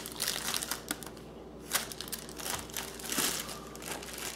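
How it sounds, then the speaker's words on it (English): Plastic packaging is peeled and crumpled off an Aerogarden Sprout hydroponic garden. Soft, close crinkling and rustling continue throughout, quiet but steady, with no voices. "Okay, let me unwrap."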